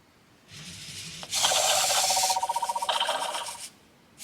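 Robosen Transformers Bumblebee robot toy running a scanning action: a hiss of whirring and grinding servo noise builds, then a rapid ratcheting buzz pulses before the motors cut off, close and clear with no voices.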